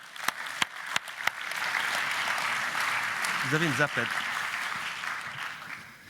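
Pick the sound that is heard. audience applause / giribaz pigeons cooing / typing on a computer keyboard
audience applause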